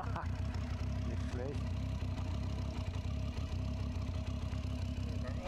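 A motorbike engine idles steadily at close range with a low, continuous rumble, while people talk over it as someone prepares to ride for the first time.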